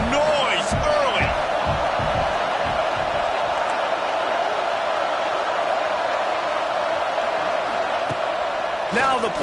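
Stadium crowd at a football game roars in a dense, continuous wash for the whole stretch, with a few louder cheers and whoops near the start and end.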